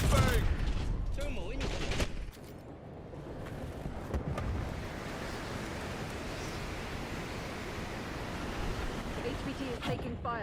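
Heavy video game gunfire in a tactical shooter match, with dense sustained bursts and loud shots up front, then a steady rumbling firefight continuing in the background through to the end.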